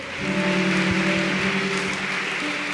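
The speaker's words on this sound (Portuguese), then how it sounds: "Você pode aplaudir ao Senhor?" Worshippers at a church service applaud the Lord, a continuous broad rush of crowd clapping over sustained organ or keyboard chords, steady and moderately loud with no speech.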